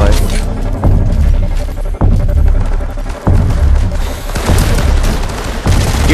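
Loud video-game gunfire in Firefall, continuous rapid shooting with heavy booming impacts landing roughly every second over the whole stretch.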